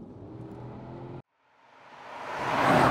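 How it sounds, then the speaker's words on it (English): A 2.3-ton Porsche Cayenne Turbo S (955) SUV with a 513 bhp V8 accelerating: a low rumble breaks off into a short silence, then a broad roar swells steadily louder and closer. "it comes with 513 brake V8 that does this"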